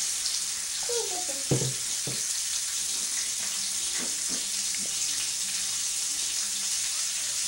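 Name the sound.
pancake frying in a pan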